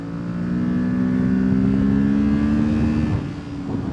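A Kawasaki ZX-6R sport bike's exhaust reverberates off surrounding walls as a loud, steady engine drone that holds, then dips and recovers near the end, with no voices.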